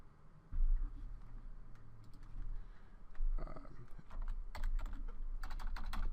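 Fast, uneven keystrokes tap on a computer keyboard while a web search for citation sources is typed in, clicks clustering in bursts over low room hum.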